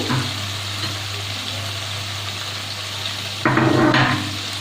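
Spice paste with potatoes bubbling and frying in oil in a pan for prawn and banana flower ghonto, a close, continuous crackling sizzle that swells louder near the end as it is stirred, no talking.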